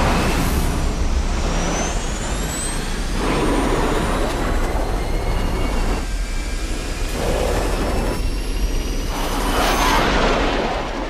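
A powerful spaceship engine roars continuously, swelling and fading in waves with rising whines, loud and close.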